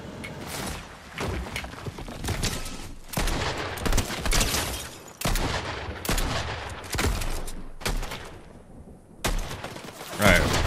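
Pistol gunfire in the battle royale video game Fortnite: repeated loud, sharp shots in irregular clusters across the whole stretch, with brief quieter gaps between bursts.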